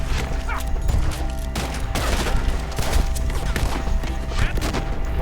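Gunfire in a Red Dead Redemption 2 shootout, rapid loud overlapping shots cracking in dense volleys throughout, with shouting and dogs barking mixed into the chaotic din.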